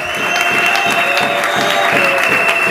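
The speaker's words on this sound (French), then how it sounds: "je vais vous demander pour la seconde fois de les acclamer" A large audience at a formal speech gives loud, sustained applause, the close, steady clapping continuing unbroken from start to end.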